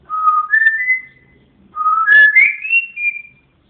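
An African grey parrot whistles two clear, rising melodic phrases, each sliding upward in pitch, loud and close, with a short pause between them.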